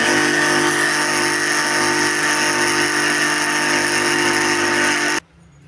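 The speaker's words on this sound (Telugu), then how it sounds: "బెల్లం నలిగేంత వరకు మిక్సీ పట్టుకోవాలండి దీన్ని" A mixer grinder crushing lumps of jaggery runs in a loud, continuous motor whine for about five seconds, then cuts off abruptly into near silence.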